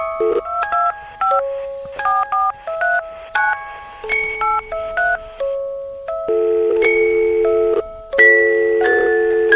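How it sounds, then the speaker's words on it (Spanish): A rapid sequence of telephone keypad tones beeps out a number, each short electronic tone a different pitch, followed by a few longer tones, clear and close. "decidió llamar al número de teléfono"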